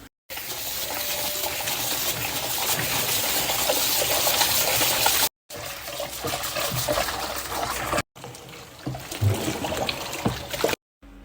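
Hot water pouring into a distillery mash tun holding corn, rye and malted barley, a loud, continuous gushing rush broken by two brief cuts, with no speech over it.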